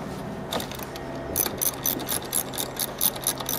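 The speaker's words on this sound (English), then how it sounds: "You need either a ring spanner or a deep socket" A ratchet with a 13 mm deep socket loosening a battery terminal on a Ford Focus 1.5 TD makes quick, close clicking bursts in a steady rhythm.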